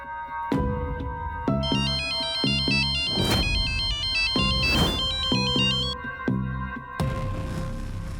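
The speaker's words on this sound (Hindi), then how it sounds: "बार बार फोन क्यों किए जा रहे हैं?" A phone ringtone plays a bright, repeating electronic melody in several bursts separated by short gaps, loud and close with no voices.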